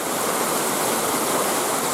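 Jérusalem River, a mountain river, rushing loudly and steadily nearby as broadband churning water noise, with no talk over it.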